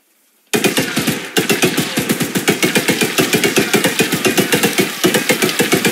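Rapid automatic gunfire from a weapon in the video game Choo Choo Charles, loud and close, a steady stream of sharp shots lasting several seconds with a brief break partway, and no talk over it.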